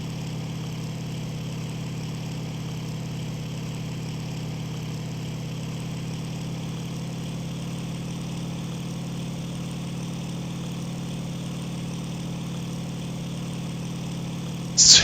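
A steady, loud drone from a Bf-109F-2 aircraft engine in the IL-2 Sturmovik flight game, a constant low hum that continues unbroken with no talk and ends in a brief click.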